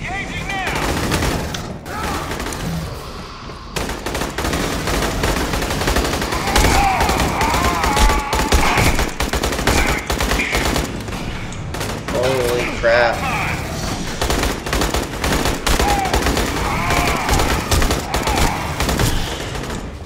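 Rapid bursts of gunfire from weapons in the shooter game Aliens: Colonial Marines, loud and sustained with repeated volleys and booms, mixed with in-game effects and occasional talk.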